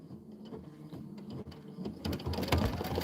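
A Kimberbell embroidery machine stitches a design with a quiet, rapid mechanical chatter that grows louder and busier toward the end.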